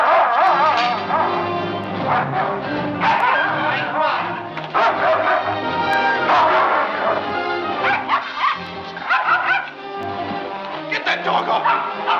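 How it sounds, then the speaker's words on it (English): A dog named Baron barks and snarls while attacking a man in a 1930s mystery film scene, loud and continuous, with frantic shouting voices and scuffling mixed over the commotion. "Get that dog off! Get him off!"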